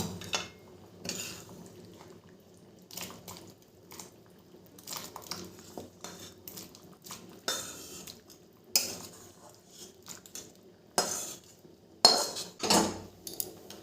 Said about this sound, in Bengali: আস্তে আস্তে এভাবে নেড়ে দিতে হবে।